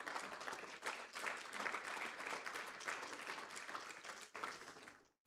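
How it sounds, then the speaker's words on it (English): Steady, full applause fills a conference hall at an energy summit as the audience honours petroleum ministry directors, a continuous wash of many hands that stops abruptly after about five seconds. "Let's give them a round of applause"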